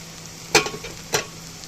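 Coriander and garlic frying in hot oil as a spoon stirs them, for Egyptian fatta: two sharp scraping, sizzling bursts close up over a quiet, steady background hiss, no talk.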